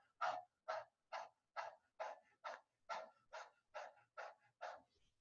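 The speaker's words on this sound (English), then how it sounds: "stick your tongue out and pant like a dog" Rapid rhythmic dog-like panting with the tongue out as a kundalini yoga pranayama breathing exercise, about eleven sharp, evenly spaced breaths close up, with no talking.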